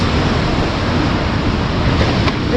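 Strong wind gusts along the seafront in Malta, buffeting the microphone with a loud, constant rumbling roar mixed with crashing surf, unbroken and without talk.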